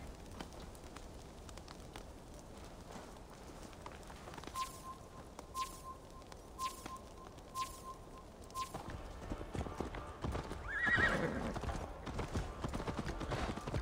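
Horse hooves clip-clop steadily in the Assassin's Creed Valhalla video game, with a horse neighing near the end over soft outdoor game ambience and faint tones.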